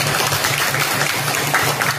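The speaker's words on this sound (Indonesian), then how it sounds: "Oke, tepuk tangan untuk Nadia." A class of students claps for a classmate, a dense, loud, continuous wash of overlapping hand claps filling the whole moment, with no talk over it.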